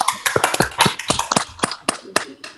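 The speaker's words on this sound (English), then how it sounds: "A round of applause for my wife, Leah." A small group claps with scattered, uneven hand claps for about two and a half seconds at a piano fundraiser for a community health clinic, fairly close and a little loose in rhythm.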